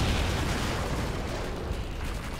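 Grenade explosions in the Call of Duty 2 American campaign, heard as a loud, sustained rumbling roar of blast and debris that fills the whole moment without any voices.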